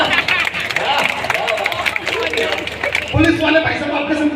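An audience at an outdoor Hindi poetry and joke show claps together in a dense, continuous burst amid crowd chatter and cheering, loud and close throughout.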